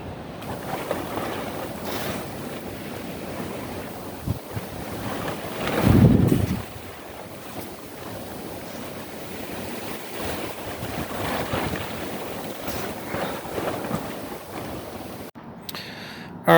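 Strong outdoor wind gusts roar and buffet the microphone in a steady, close rush, with one heavier blast surging up midway before settling back to a constant blustery noise.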